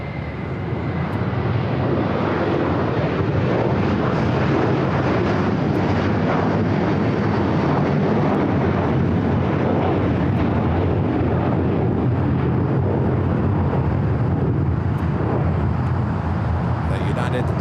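A jet airliner takes off from runway 25 Right at LAX, a loud, continuous engine roar that holds steady throughout, with talk over it.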